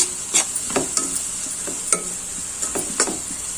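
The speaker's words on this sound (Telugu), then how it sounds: "దీంట్లో ఉప్పు, పసుపు కొద్దిగా వేసేసుకొని ఉల్లిపాయలు, పచ్చిమిర్చి ఫ్రై చేసుకోండి." Onions and green chillies frying in a pan with salt and turmeric, a bright continuous sizzle punctuated by a handful of clinking, scraping stirs, close and loud with no talking.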